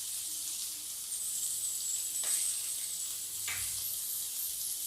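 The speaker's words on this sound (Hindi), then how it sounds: "मटर हमारा फ्राई हो चुका है।" Peas frying in a pan with turmeric, coriander and chili powder for samosa filling give a steady soft sizzle and hiss, with a couple of faint stirring scrapes, no talking.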